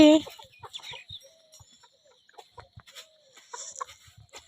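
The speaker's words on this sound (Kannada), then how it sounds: "ಟೋಟಲ್ 22 ಅದ ನೋಡ್ರಿ, ಸಣ್ಣ ದೊಡ್ಡ ಎಲ್ಲ ಸೇರಿ ಹುಂಜಾತಿ" A flock of roosters and hens, around twenty-two birds both small and large, clucks near sugarcane, with a loud squawk at the start followed by scattered short clucks and calls at moderate distance.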